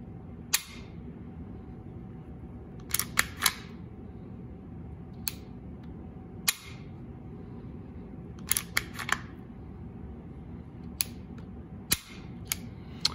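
CZ SP-01 Phantom pistol dry-fired, giving a string of sharp, close metallic clicks from the trigger and hammer, spaced irregularly over a faint quiet background.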